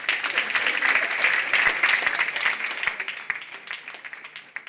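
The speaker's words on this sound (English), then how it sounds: "Give her a round of applause." Applause for a student called up at a student research day event, a steady roomful of clapping that holds for several seconds and tapers slightly near the end.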